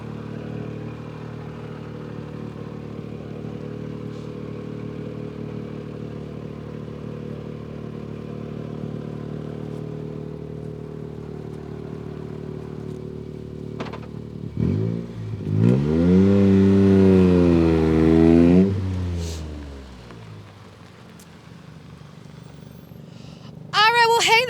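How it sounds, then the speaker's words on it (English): An R2 rally car at the LSPR 2021 rally roars past, its engine revving hard through several gear changes in a loud sweep before fading away. People talk over a low background hum before and after. "looks like we've got another McKenna in an R2 car here"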